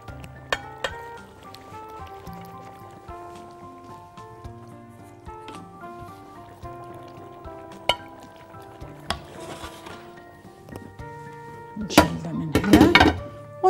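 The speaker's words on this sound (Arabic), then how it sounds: "ونبتدي نخلط المكونات بتاعت السلطة بتاعتنا" Chickpea and eggplant salad ingredients being mixed in a bowl, with sparse soft clinks and scrapes of a utensil against the bowl over a quiet background, ending in a burst of louder rustling and tossing, heard up close.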